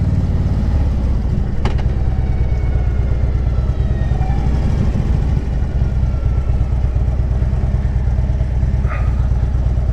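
A 2010 Harley-Davidson Street Glide Ultra motorcycle pulls away, its engine giving a loud, close, steady rumble that runs the whole time with no voices.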